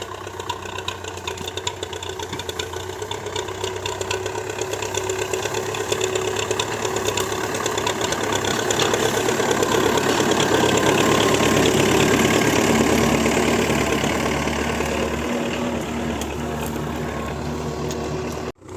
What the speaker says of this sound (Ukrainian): Заїжджає вже трактор.